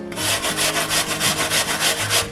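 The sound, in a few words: grating a peeled apple on a box grater's large holes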